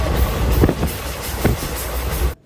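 A passenger train running at speed, heard from on board as a loud, steady roar and rush of wind with periodic rattling thumps, ending in a sudden cutoff.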